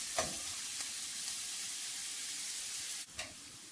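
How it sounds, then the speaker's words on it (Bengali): Chopped onion and garlic frying in a pan while making surba wheat soup, a continuous dense sizzle heard close up with a brief clink near the end. "পেঁয়াজ রসুন ভাজা হয়ে গিয়েছে,"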